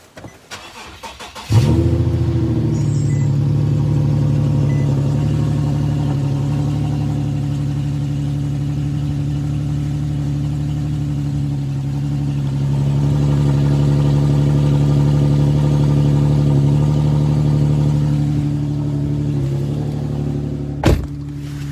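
An Infiniti G37 engine cold-starts with a brief crank and catch, then settles into a loud, steady, high idle that rises slightly midway, running alone with no talk.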